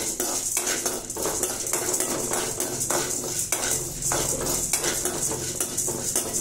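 Idli podi ingredients dry-roasting in a pan, with a constant scraping and stirring of a spatula, rattling grains and metallic knocks over a faint hiss, close and steady.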